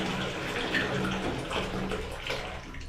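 Water runs steadily from a tap into a container in a small rented room, a continuous broadband splashing rush with no talking over it.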